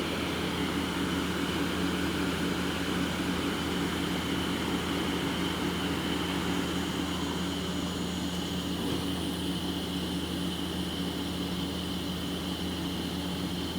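Mazak Hyper Quadrex 450MY CNC turning center with its spindle running at 1,000, a steady broadband hum and whir that holds constant throughout, moderately loud with no pauses.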